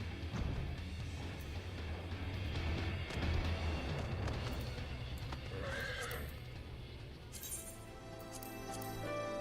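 Horse mount from the video game Final Fantasy XIV, an elemental steed with rocks flying beneath it, neighs and whinnies loudly with clip-clopping hooves against a steady backdrop of game music and effects, no talking.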